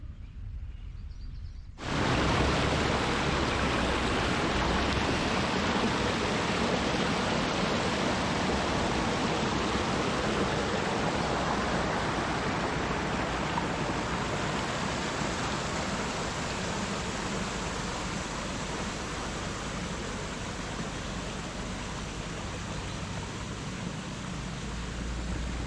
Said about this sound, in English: This little stream to the north of Lake Francis is beautiful. Found a little waterfall here.